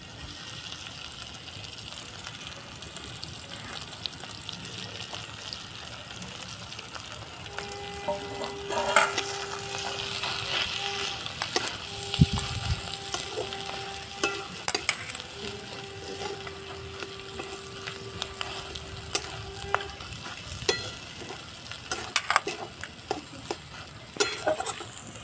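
Mashed potato dropped in with browned garlic and fried in a pan for a pumpkin and potato chop, a low sizzle with intermittent scraping and stirring strokes, close and moderately quiet, with some faint tonal hum in the background.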